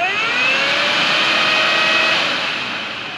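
A cheap aftermarket radiator fan on a 1998 Mitsubishi Eclipse GSX whirs steadily at high speed, a loud, close whine with no talk over it.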